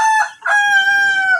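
A backyard rooster gives a single loud, close cock-a-doodle-doo, a short broken opening followed by one long, drawn-out crow, with no other sounds around it.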